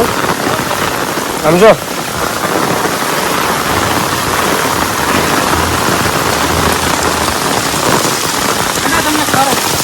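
Very heavy monsoon rain pours down on a street in Gariyadhar, a dense, steady hiss of drops pattering on surfaces that stays loud throughout, while someone briefly speaks close by early on.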